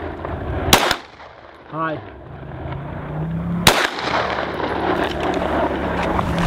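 Video game gunfire comes as two sharp, loud single shots a few seconds apart, with steady rumbling game background noise between them and a brief voice.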